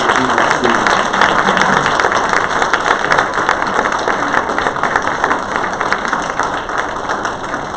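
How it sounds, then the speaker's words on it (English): Steady, dense applause from a crowd at a legislative meeting, sustained at an even level throughout with a faint murmur of voices beneath. "Let's have one big last round of applause for all the folks who"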